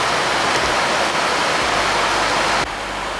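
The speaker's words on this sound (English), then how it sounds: "Hopefully you can hear me with all this rain." Heavy rain pours down steadily outdoors beside a Ford F-150 being repaired, a loud, dense, continuous hiss that drops slightly in level near the end.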